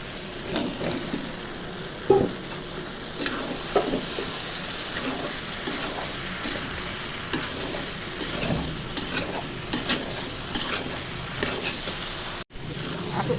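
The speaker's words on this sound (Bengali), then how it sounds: "এখন সবজি দিয়ে কষিয়ে নিব।" Potatoes and pointed gourd stir-fried in a pan for a tilapia curry, with a steady close sizzle and repeated scraping clinks of a spatula against the pan throughout.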